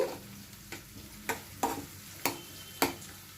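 Tempering spices for curd vada frying softly in hot oil with a quiet sizzle, punctuated by a handful of sharp clinks of a spoon against the pan.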